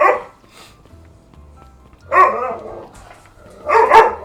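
A dog in the video game Beacon Pines barks in two short, loud bursts a little over a second apart, clear and close with quiet gaps between.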